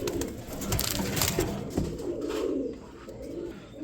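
Low, rolling coos from pigeons, repeating in soft bursts close by, with faint background noise and no talking.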